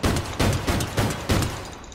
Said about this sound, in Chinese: 射到好似烟花咁样嘅呢支散弹枪